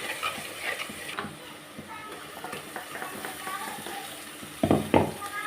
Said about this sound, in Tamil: வதக்கிக்கிடலாம்.